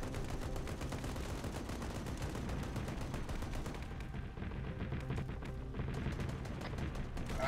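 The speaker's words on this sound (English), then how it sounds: "Heavy MG fire for northeast." Heavy machine gun fire in a military shooter game, dense sustained automatic bursts that run nearly continuously and loud, with distant booms mixed in and no talk.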